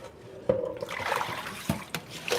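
Water runs and trickles steadily in a kitchen pot while potatoes are being cooked, a close, continuous wash with a few clunks of a pan or lid.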